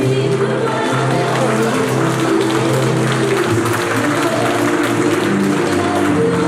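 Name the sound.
audience applauding at ballroom dance concert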